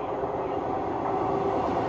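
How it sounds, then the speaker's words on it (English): A Class 345 train runs through Gidea Park station with a steady, fairly close rumble and rail roar that holds evenly across the whole stretch, and no one speaks. "That's a late train going through."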